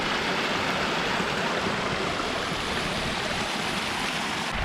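Mountain stream in Welsh hill country, water running straight down off the slope, heard as a steady, continuous broadband rush that stays loud and even throughout with no voices.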